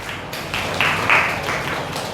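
Group of children and adults clapping together for a boy who answered a quiz question correctly in a Vedic maths class, a brief burst of steady applause with no talking.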